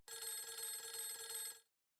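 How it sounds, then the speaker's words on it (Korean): A telephone rings in an audiobook scene of an incoming call: a steady bright electronic ring with rapid trilling pulses, lasting about a second and a half before it cuts off, with no voices over it. "한 통의 전화가 걸려왔습니다"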